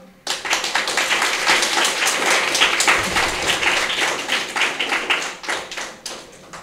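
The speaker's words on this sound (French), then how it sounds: "Moi, je vous demande d'applaudir et d'accueillir Chloé, Enola, Léa et Sarah." A school audience in a live French radio broadcast from a primary school claps for a group of pupils, bursts of separate hand claps swelling into steady applause that fades near the end.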